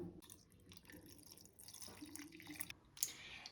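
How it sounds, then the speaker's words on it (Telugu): Quiet trickle and splash of water poured into a bowl of korramenu fish to soak, with a few small drips and clinks near the end. "ఇప్పుడు ఇందులో కొన్ని వాటర్ పోసుకొని నానబెట్టుకుందాం"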